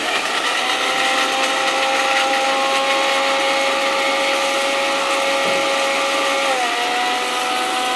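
A Singer Pro grinder machine grinding chili powder, a loud, steady high-pitched motor whine that holds its pitch, dipping slightly near the end, close up with no talk.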